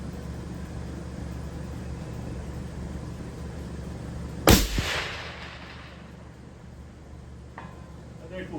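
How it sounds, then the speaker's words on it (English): A single rifle shot fired at a target 800 yards away cracks sharply and loudly amid steady outdoor background noise, then fades into a lingering rumble; a faint later tick follows, with a voice present. "this is Joe shooting at 800 yards now"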